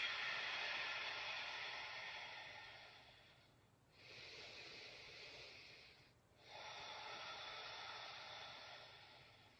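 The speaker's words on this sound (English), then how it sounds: "Deep breaths." Slow, deep breaths during a yoga session for shoulders and hips, two long airy exhalations separated by a brief pause, close and soft with no talking.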